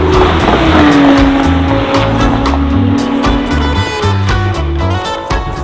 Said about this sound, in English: These cars are going way too fast.